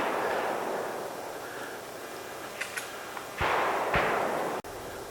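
Gunshots while shooting sporting clays outdoors, two sharp, fairly distant shotgun blasts about half a second apart over a steady background hiss, with a few faint clicks before them.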